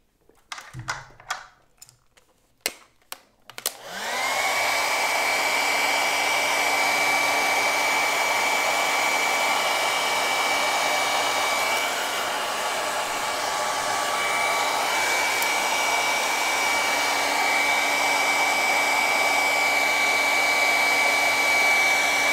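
A hair dryer blows on wet paint on a grape painting, switching on after a few light taps and then running as a loud, continuous whirring hum with a steady tone.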